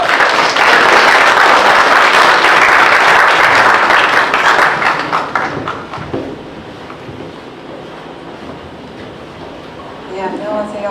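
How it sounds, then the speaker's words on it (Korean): A symposium audience claps warmly to welcome a speaker, with loud, dense applause that fades away after several seconds, leaving a quiet room with faint shuffling. "큰 박수로 환영해 주시기 바랍니다"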